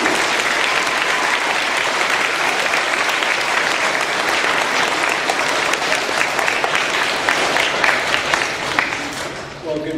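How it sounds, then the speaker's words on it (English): Sustained audience applause welcoming a superintendent to speak at a Veterans Day school gathering, dense and steady for the full length, fading slightly near the end. "So please clap and welcome Superintendent Bauman."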